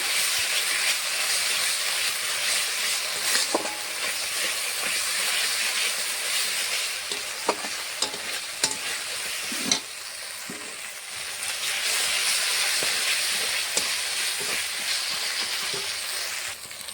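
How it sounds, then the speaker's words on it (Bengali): Ground masala cooking down in hot oil in a pan, a steady close sizzle and hiss with occasional stirring scrapes and small pops, continuous throughout with no talking. "মশলাটা কষানো হচ্ছে ভালো করে।"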